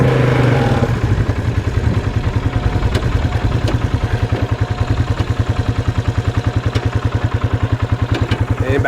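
A Polaris Sportsman ATV that sat outside for a long time, its engine fired up and running, a loud steady rhythmic chugging idle close by after a brief start.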